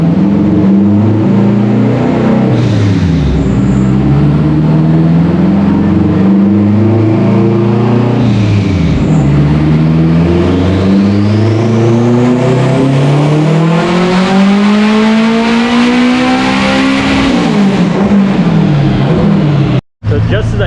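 A turbocharged all-wheel-drive Honda Civic engine revs loudly and climbs repeatedly under boost, pitch sweeping up and falling back between pulls, close and dominant over a voice talking.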